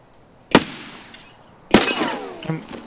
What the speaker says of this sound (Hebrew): הם יורים עלינו.